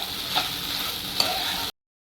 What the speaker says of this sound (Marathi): चांगली तुपावरी परतून घ्यायला हवी